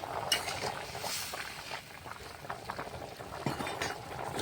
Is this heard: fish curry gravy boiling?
yes